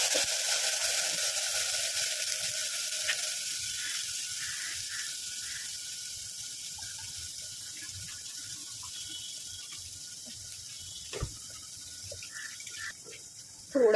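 Water poured into a hot cooking pan of ground spice paste with turmeric and curry leaves for buttermilk kadhi, giving a steady hissing, rushing stream near the mic that fades gradually, with a few soft clinks toward the end.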